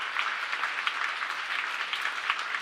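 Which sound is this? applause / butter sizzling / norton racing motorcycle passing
applause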